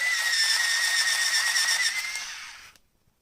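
Electric pencil sharpener grinding a thin, blunt pencil in its narrow slot, a close, steady high-pitched motor whine lasting about two and a half seconds before cutting off abruptly into silence.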